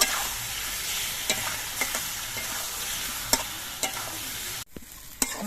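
Potatoes sautéing in a pan with cumin paste, chilli paste and spices, stirred steadily: continuous close sizzle with scattered scraping strokes and a brief pause near the end.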